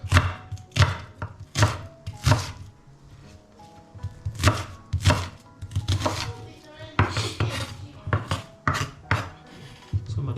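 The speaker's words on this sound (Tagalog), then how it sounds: "Slice tayo ng sibuyas at luya." A knife slicing onion and ginger on a cutting board, with repeated sharp chopping strikes in an uneven rhythm, close and clear, several in quick succession.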